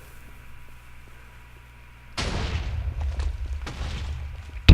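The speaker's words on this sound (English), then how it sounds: "These will explode, launching this one through the air, and it'll fly and land and then explode." Minecraft TNT cannon firing, its blocks exploding to launch another charge through the air; a quiet hum, then a sudden loud blast with a rumbling tail and crackle, followed by more sharp bursts and a final thump close by.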